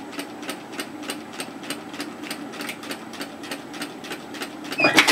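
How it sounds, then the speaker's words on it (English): A sewing machine stitches close to the fabric edge to hold a pleat in a two-fabric tee, with a steady, evenly spaced pulsing rhythm at moderate loudness and a brief rustle at the end. "I'm just going to stitch very close to the edge, 3mm, 1/8 of an inch"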